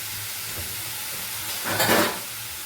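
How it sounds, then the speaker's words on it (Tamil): Chicken sautéing in a pan for white chicken kurma gives a soft, steady sizzle, with a brief louder hiss and scrape of stirring near the end and faint low hum beneath. "போட்டு ஒரு வதக்கு வதக்குறோம்"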